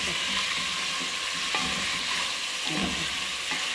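Green chili paste frying in a pot for potato chicken curry gives a loud, constant hiss and sizzle, broken by a few soft scraping stirs, with no talking.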